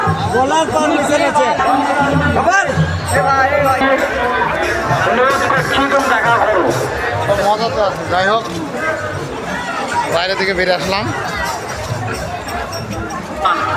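Dense crowd hubbub fills a busy Pathar Chapuri fair, with overlapping chatter and babble continuing steadily throughout while someone talks close by over the noise.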